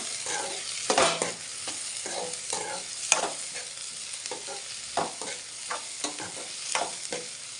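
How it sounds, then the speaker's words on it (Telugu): Sliced onions frying in oil as garlic paste is stirred in for an egg curry, a soft steady sizzle broken by repeated scraping stirs of a spoon against the pan. "ఉల్లిపాయలు కొంచెం అలా ఫ్రై అయిపోయినాక కాలం వెల్లుల్లి పేస్ట్ కొంచెం కలబెట్టేసుకున్నాం"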